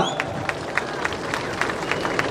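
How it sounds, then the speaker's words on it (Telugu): A crowd claps at a ministers' event for a double-bedroom housing programme, with quick, evenly spaced claps ringing out over a steady murmur of crowd noise and voices. "చప్పట్లు కొట్టరా"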